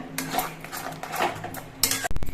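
Pineapple for a chutney being stirred with salt in a pan, with a spoon or spatula scraping and clinking against the metal and a sharp cluster of clanks at the end.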